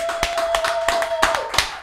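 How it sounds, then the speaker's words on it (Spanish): An audience applauds guest Lenny Tavarez on a talk show, a burst of claps with individual sharp hand strikes standing out, alongside a sustained tone that fades near the end. "quiero que le den otro fuerte aplauso a mi invitado de hoy, Lenny Tavares"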